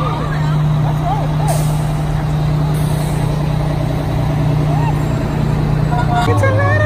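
Several fire trucks, including a ladder truck, gathered on a Memorial Day weekend give a loud, steady heavy-engine rumble close by, with a sharp air-brake hiss near the end and voices talking over it.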